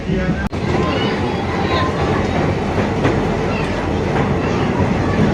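Steady rumble of a moving train heard from inside the carriage on a jungle and river trip, continuous and fairly loud with a brief sharp knock near the start.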